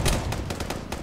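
A super anti-tank weapon fires in a video game, giving a quick run of loud, close booming blasts that thud one after another across a single second with no talking.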